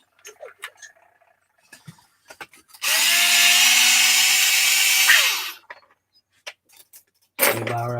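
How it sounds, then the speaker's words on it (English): Power tool whirring steadily for about two and a half seconds while the sway bar is pulled from an Arrma Mojave 6s BLX RC car, with scattered small clicks and handling noises before and after. "I'm gonna go after the sway bar just to pop it out, get it out of my way"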